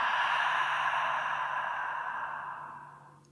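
A long, deep exhale of breath through the mouth during a seated chair yoga breathing exercise, a steady breathy rush that fades gradually over about three seconds.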